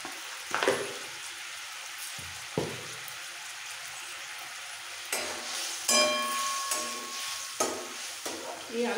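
Large chunks of yellow tomato hit a hot pan and fry with a close sizzle, broken up by several sharp scrapes and clinks of a spatula being stirred through them.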